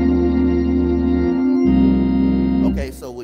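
An organ plays a chord progression in sustained, full chords that shift several times. A voice begins speaking near the end.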